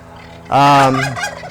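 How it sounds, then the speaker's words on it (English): A single loud turkey gobble rings out up close in a farm chicken yard, a rapid warbling call lasting about a second. "we have our chicken coop and chicken yard here. You can probably hear our animals all the time squawking."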